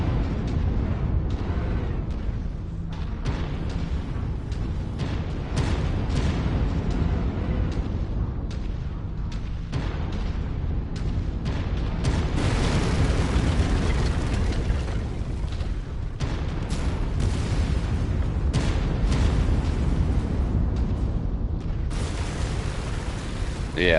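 Missile explosions in the MechWarrior 5 video game come as a dense, continuous run of booming blasts and rumbling impacts, loud and layered throughout with no pause.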